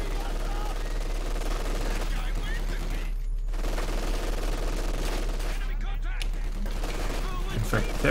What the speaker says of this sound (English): This machine gun's just having a field day right here.